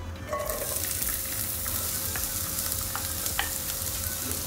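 Chopped onion hits hot oil for a beef bolognese sauce and sets off a constant, even, close sizzle with a few light stirring ticks and a faint steady hum underneath, with no talking.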